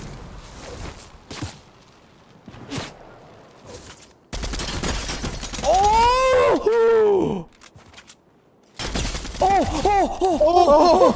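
Mythic assault rifle firing in the Fortnite video game: a few isolated cracks, then dense rapid-fire bursts in two loud stretches, mixed with sweeping game effects and vocal sounds.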